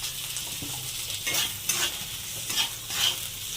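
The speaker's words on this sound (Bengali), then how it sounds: "পেঁয়াজ আর টমেটোগুলো ভাজা হয়ে গেছে, হালকা করে ভেজে নিয়েছি।" Chopped onions and tomatoes with salt fry in a pan while a spoon stirs them, giving a soft sizzle broken by several louder scraping strokes, with no talking.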